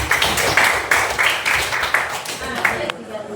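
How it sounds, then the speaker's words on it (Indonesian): Classroom audience clapping after a teacher's call for applause, a dense run of handclaps lasting about three seconds with voices murmuring underneath. "kita kasih tepuk tangan dulu ya"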